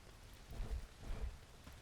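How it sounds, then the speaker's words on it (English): Rain falls in the Bellwright game, a faint, steady patter with soft low rumbles swelling twice, quiet and without talk. "Been raining this whole time and nothing."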